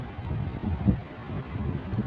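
Outdoor wind buffets the microphone on a mild day, a low steady rumble with faint gusty swells and no voices.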